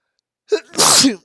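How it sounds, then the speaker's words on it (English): A single loud sneeze from an adult, close up and alone: a short sharp inhale followed by a burst of explosive noise lasting about half a second. "I'm about to sneeze."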